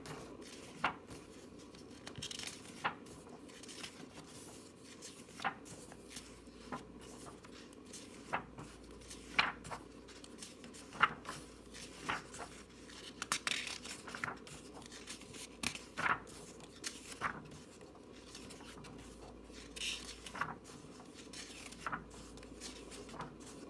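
Pages of a colouring and spellcasting art book turned one after another, soft papery swishes and rustles repeating irregularly close by, with no talking.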